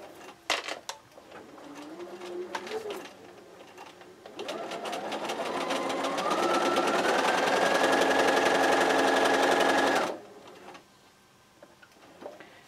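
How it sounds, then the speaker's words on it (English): A sewing machine stitches a quilt square in a short burst, then runs steadily at rising speed for several seconds before stopping abruptly, with faint handling clicks around it. "I'm just going to place this here on my sewing machine"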